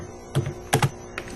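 A few keystrokes on a computer keyboard while entering C++ code, three or four distinct close clacks in a short burst, one pair tightly spaced, with no talking.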